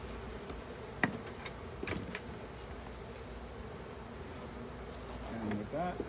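Honey bees buzz around an open hive worked with smoke, a continuous close droning hum throughout with a few brief knocks and rustles.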